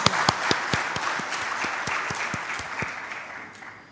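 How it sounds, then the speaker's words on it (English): Audience applause at a talk fills the room, a dense steady wash of clapping with a few sharp individual claps standing out, fading slightly toward the end. "please give a round of applause to the lady that has brought laurels to this country"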